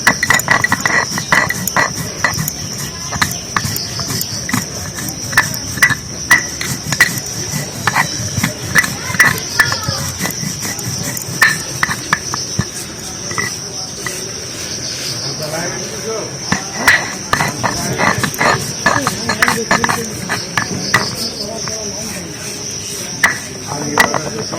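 Black cumin seeds are ground by hand on a grinding stone, giving irregular scraping and knocking strokes close up, with a steady insect-like high whine running underneath.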